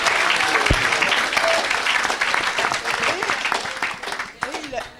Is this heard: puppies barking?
no